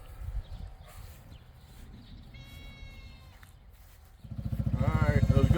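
Hungry goats on a farm bleat, one wavering cry standing out mid-clip amid murmuring voices, before a loud, pulsing, rhythmic chugging rumble takes over at the end.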